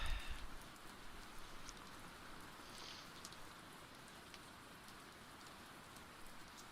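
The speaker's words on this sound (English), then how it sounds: "This rain isn't helping." Steady rain falls alone, a dense even hiss of drops spattering on a surface, continuous and moderately loud throughout with no voices.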